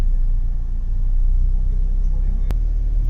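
A Toyota Fortuner G variant with a 2.7 petrol engine and automatic transmission runs after a push-button start, a loud, steady low rumble with one sharp click near the end.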